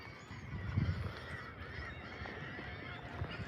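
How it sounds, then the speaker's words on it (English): Gulls calling outdoors on a cold fishing morning by the water, a steady noisy chorus of raucous honking cries from several birds, moderately near, with a louder burst early on and no talking. "Sounds like a zoo out here with all those seagulls."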